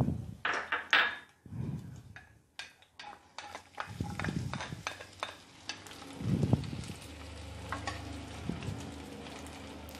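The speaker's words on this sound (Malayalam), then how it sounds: "ഇതിനകത്തോട്ട് നമുക്ക് വെളുത്തുള്ളി ഇഞ്ചി ഇട്ട് കൊടുക്കണം." Garlic and ginger hit hot oil for a lemon pickle, with a steady sizzle broken by bursts of stirring and scraping against the pan, fairly close.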